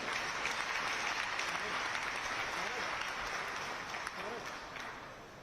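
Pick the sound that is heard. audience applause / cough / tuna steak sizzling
audience applause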